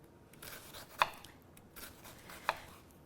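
A knife slices a fennel bulb thinly on a board: two crisp, distinct cuts about a second and a half apart, with soft handling noise between them.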